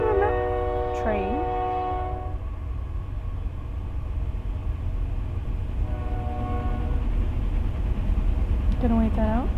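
A train rumbles past as two long wavering horn blasts sound at the start and another returns near the end, with voices talking over the steady low roar.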